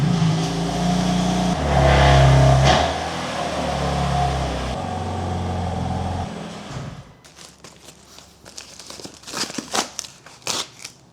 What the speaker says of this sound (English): I have to actually reverse the car so I have a little bit more natural lighting